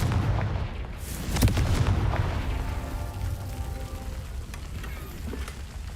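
Spell blasts in a wizard video game burst out as booming explosions, one sharp crack early followed by rumbling debris and fading echoes, with no voices over it.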